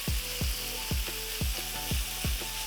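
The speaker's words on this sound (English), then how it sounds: "we're gonna cook it until we see it starting to shrink and it is golden brown on all sides" Bacon frying in a pan with avocado oil spray, a steady close sizzle broken by about six evenly spaced low thumps, roughly every half second, with no voices.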